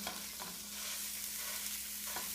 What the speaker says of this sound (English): You're gonna take your pound of ground beef here. Go ahead and throw that in there. You got it sizzling, you know it's hot enough.